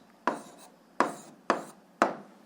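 A pen marks paper while algebra is worked out, four short scratchy strokes spaced about half a second apart, close and quiet in an otherwise silent room.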